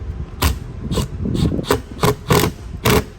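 Screws driven through a traction mat on a 2024 Sea-Doo Spark Trixx, a run of short, loud grinding bursts from a powered driver, about seven close pulses in quick succession with no talking.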